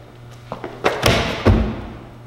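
Parkour kong precision jump onto a precision trainer: a few light taps and scuffs, then two heavy close thuds of the hands and landing a moment apart, with no talk.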